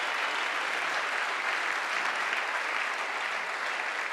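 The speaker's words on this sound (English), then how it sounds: "can I have a huge round of applause to all the speakers so far?" An audience at a lightning talks event gives the speakers a steady, dense round of applause, a continuous wash of many hands clapping with no talk over it.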